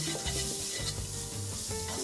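Spices and onion sizzle steadily in a hot pan while being stirred, with soft scraping strokes over the continuous close frying hiss.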